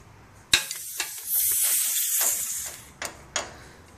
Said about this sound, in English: We're going to crack our Schroeder valve off.